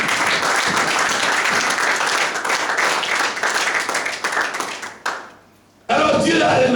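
A church congregation applauds loudly and steadily at a Sunday service, with cheering voices mixed into the clapping. The applause breaks off briefly, then resumes.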